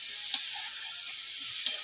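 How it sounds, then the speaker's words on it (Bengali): Small crabs with turmeric and salt fry in a pan, giving a steady, close sizzling hiss with a couple of faint scrapes. "এবার কাঁকড়াগুলো ভালো করে ভেজে নেবো।"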